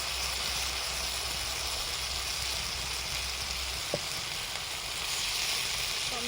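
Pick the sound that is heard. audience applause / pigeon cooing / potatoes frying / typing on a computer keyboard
potatoes frying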